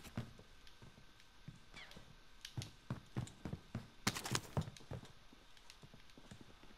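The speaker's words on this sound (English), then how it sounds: "there is footsteps right beside you" Footsteps close by in the Call of Duty Warzone battle royale game, a series of sharp, evenly paced thuds that grow busier and louder in the middle before easing, with no talk over them.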